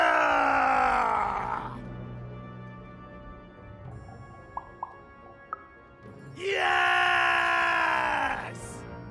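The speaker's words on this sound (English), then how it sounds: "Now we're working on our battle cries!" Two long, loud strained screams of battle cries in the game Lost in Random, separated by a quieter stretch broken by a few short clicks.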